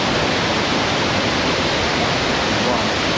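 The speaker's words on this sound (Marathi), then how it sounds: "पाण्याचा प्रवाह अतिशय प्रचंड वेगामध्ये खाली उतरतोय" Savdav waterfall in Kankavali, Sindhudurg, roars as a dense, close, continuous rush of heavy falling water that is loud and steady throughout.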